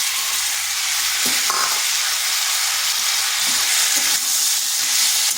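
Tomato and ground spice paste frying in a pan for an egg and pumpkin curry, a loud continuous hissing sizzle with occasional faint stirring knocks, close and steady throughout.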